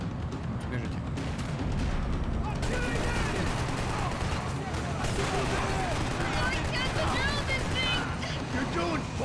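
Sustained gunfire from a firefight in Max Payne 3 against the Brazilian army, dense bursts and shots crackling continuously under music and game voices, with someone talking over it.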